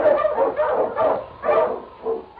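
King, an Eskimo sled lead dog in a 1946 radio drama, barks five times in an uneven rhythm, each bark loud and close with nothing else behind it.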